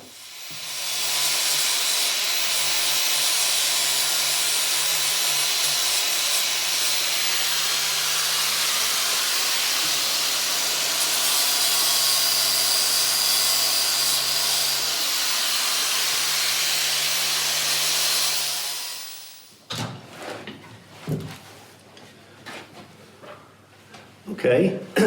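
Loud, steady whine and hiss of a router with a 1/8 bit carving into a wooden table top, running continuously for about twenty seconds before stopping, followed by quieter scraping and handling noises.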